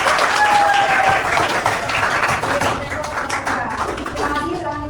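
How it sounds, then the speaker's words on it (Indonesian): A small classroom group of students gives a short burst of applause for a presenting student group, loud at first and then thinning out, with some voices mixed in. "beri aplaus untuk kelompok"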